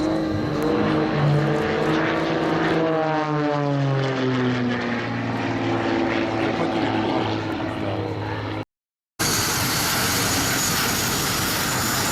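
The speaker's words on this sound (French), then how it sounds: "Les avions sont en abatté et repartent sur une verticale descendante." Aircraft fly past at an air base open day at Avord, with a loud, continuous roar of engines whose pitch sweeps downward as they pass, filling the scene before a brief cut.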